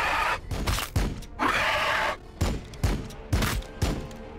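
Gunfire in the video game Warhammer 40k Battle Sector: loud, close bursts of shots, a longer roaring volley early on, then a run of sharp, evenly spaced heavy reports with no talk.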